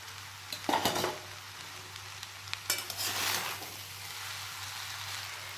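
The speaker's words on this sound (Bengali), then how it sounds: "এখন আমি এর মধ্যে দিয়ে দেব আগে থেকে ভেজে রাখা চিকেন, চিংড়ি, পনির আর ডিমের ভুজিগুলো।" Mixed fried rice with chicken, shrimp, paneer and egg being stir-fried in a pan, with scraping and clattering of a spatula against the pan over a soft steady sizzle, no talking.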